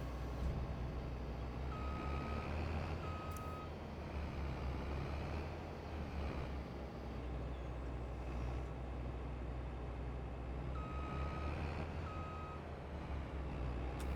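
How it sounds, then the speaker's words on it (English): A Farming Simulator 22 combine harvester pushes a 9-meter header with a continuous low engine drone. Short reversing beeps sound twice, and there is no talk. "And now we hope that our harvester has enough horsepower to push a 9-meter header."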